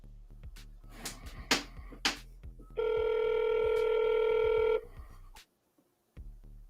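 An outgoing telephone call rings out. A single steady electronic ring tone holds for about two seconds over faint busy background sounds, then cuts off into near silence.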